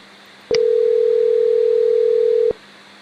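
A steady phone-line tone on a Mitel 5320 IP phone after pressing Call, holding at one pitch for about two seconds and then cutting off cleanly, with no talking.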